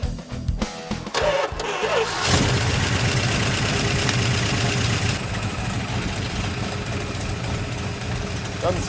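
A junkyard Plymouth Cuda engine cranks in a few short bursts, then catches and settles into a loud, steady, rough-edged running note that holds to the end.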